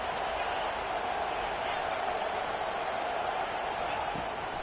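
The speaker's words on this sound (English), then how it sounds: "Here comes the crowd trying to make it tough on third and long." A steady roar from a stadium crowd at an American football game swells on a third-and-long play, dense and continuous, filling the space without letup.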